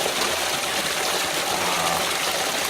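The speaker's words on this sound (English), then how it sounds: "here is a much larger body of water and much louder" A large garden water feature pours loudly and steadily, a dense continuous rush of falling water that fills the whole clip with no pauses or voices.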